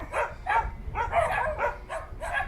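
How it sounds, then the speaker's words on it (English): Puppies bark repeatedly around a derelict site at Seamoon, Grenada, giving about six quick, close yaps and woofs in an uneven rhythm with no talking. "the little puppies around here don't want me to take a picture of this derelict"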